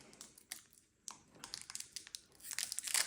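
A tightly glued Pokémon booster pack wrapper being torn open, close crinkling and ripping foil in irregular bursts that build into a louder final tear.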